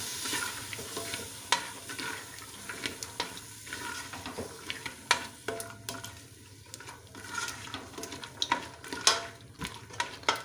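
Soaked white chickpeas being stirred into a sizzling masala in a pan for Lahori chole, with wet, sloshing spoon scrapes and clanks against the pan over a gentle frying hiss, close and irregular.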